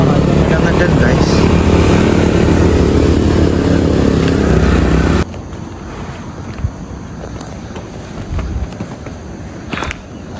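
A motorcycle engine strains and drones loudly under heavy wind noise while riding through villages, then drops suddenly halfway through to a quieter rumble with scattered knocks.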